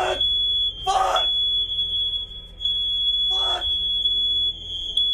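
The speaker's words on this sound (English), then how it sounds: "Oh, the fire alarm." An apartment smoke alarm sounds a continuous piercing electronic tone that stays loud and unbroken throughout, while a man curses in short outbursts over it.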